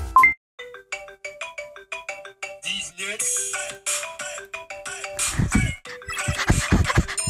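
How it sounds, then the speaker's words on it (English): A phone ringtone plays as a bright, plucky electronic melody of repeated short notes, fairly loud and close, with bursts of noisier layered sound in the second half. "I have another ringtone."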